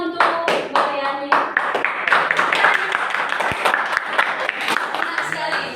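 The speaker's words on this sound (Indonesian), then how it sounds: "tepuk tangan untuk Mariani." A classroom of students claps for a classmate after a presentation. Close, uneven hand claps rattle on briefly with a few voices murmuring underneath.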